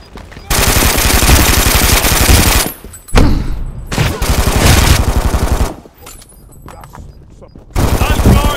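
Machine gun fire from a mounted MG nest in the video game Brink, several long, loud rattling bursts separated by short gaps, with other game sounds and voice callouts between bursts.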